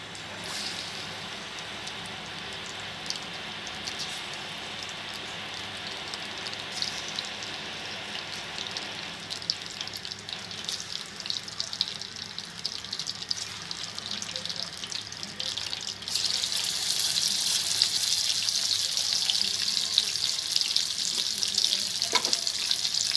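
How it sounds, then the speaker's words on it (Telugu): Fish pieces fry in a hot pan with a steady, close sizzle and crackle that grows louder and brighter partway through. No one speaks. "హీట్ అయ్యాక చేప ముక్కలు ఒక్కొక్కటిగా వేపేసుకోవాలి బ్రౌన్ కలర్ వచ్చేంత వరకు కూడా."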